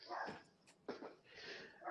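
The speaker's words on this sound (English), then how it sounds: "And as the dogs go absolutely bonkers outside." Several dogs bark outside in a few short bursts, faint and somewhat distant, with no talk over them.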